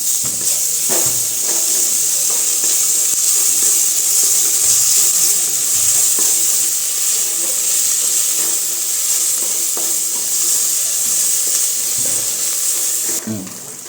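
Ginger garlic paste sautés in a pan with a loud, steady sizzle and hiss, broken by occasional scraping stirs over nearly fourteen seconds.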